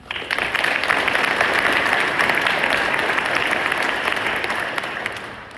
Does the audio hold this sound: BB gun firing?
no